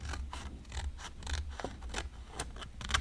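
Scissors snipping paper while trimming a piece for card making, a quick series of close, crisp cuts over a soft background.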